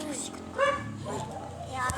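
A dog chasing people outdoors, giving a few short barks and yips amid voices talking excitedly nearby.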